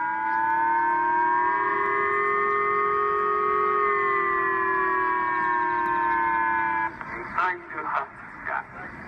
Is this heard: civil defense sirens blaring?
yes